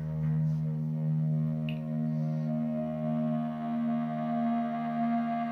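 Intro plays as steady sustained organ-like chords with a droning low tone, moderately loud and unbroken, with no voices.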